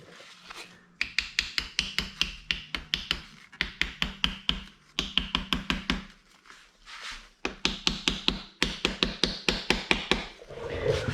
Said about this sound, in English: just get it in there and start hammering.